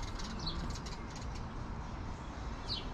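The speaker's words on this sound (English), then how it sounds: "Where'd you go, bird? I hear you." Faint bird calls, a soft cooing and a brief flutter, set against a steady outdoor hiss; no voices.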